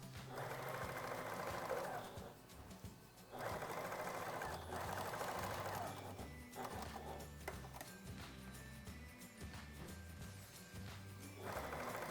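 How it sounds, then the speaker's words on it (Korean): A sewing machine runs in steady bursts of rapid mechanical stitching, stopping and starting several times, with quiet pauses and faint handling noises between runs. "그런 다음에 봉제를 하시고 오버룩으로 정리를 해줄게요."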